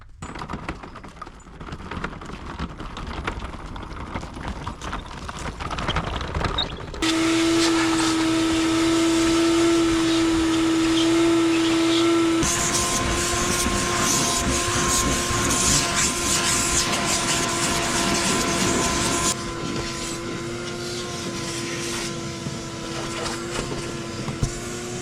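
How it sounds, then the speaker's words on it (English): A vacuum cleaner hums steadily for a long stretch inside a car, its motor pitch shifting as the nozzle moves, with some rustling and knocking around it. "the first thing that I'm going to do is just vacuum the back, vacuum everything else"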